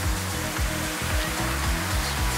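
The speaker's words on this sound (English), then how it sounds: "Nice little water fountain." A small outdoor water fountain splashing in a flower garden in Korea, a constant broadband rush of falling water with a low rhythmic churn beneath it, close and loud throughout without voices.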